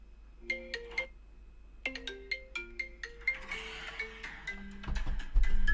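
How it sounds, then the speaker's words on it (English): A phone ringtone plays a bright, plucked melodic tune of rapid, evenly spaced notes, rising and repeating, with a rustling, noisy stretch near the end. "this is gonna be the new ringtone for sure"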